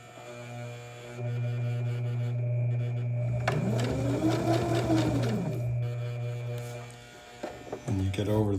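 A sewing machine back-stitches through a quilt being converted into a sleep system, running in a steady close mechanical whir that briefly shifts pitch as it reverses, then stops with a few small clicks.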